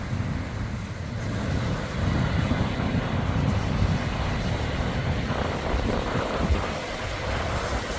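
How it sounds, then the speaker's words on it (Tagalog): Strong waves break at high tide on Tondaligan Beach in Bonuan, Dagupan City, Pangasinan, a continuous roaring surf mixed with heavy wind buffeting the microphone, no voices. "Malakas ng alon."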